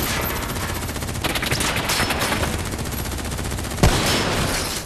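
Sustained automatic gunfire in the video game Call of Duty Black Ops 3, a loud, dense, continuous rattle of rapid shots with a heavier burst near the end and no talking.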